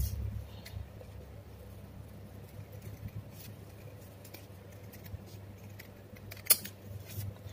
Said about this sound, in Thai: เราใช้กรรไกรตัดนะคะ